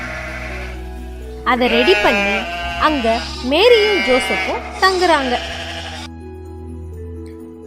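Sheep bleat in an animal shed in a nativity story, with several wavering, nasal cries that rise and fall in quick succession beneath a narrator speaking Tamil.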